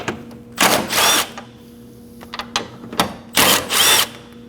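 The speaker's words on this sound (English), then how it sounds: "Using a 10mm socket, go ahead and take those out." A 10mm socket on a ratchet works loose the intake tube bolts on a 2011–2016 Kia Optima, giving short close bursts of rapid mechanical clicking and whirring separated by brief pauses, with no talking.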